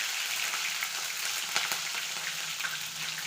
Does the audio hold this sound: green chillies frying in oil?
yes